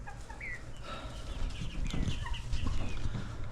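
Young chickens cluck and chirp inside a barn, with several overlapping short calls repeated close by over a steady low background.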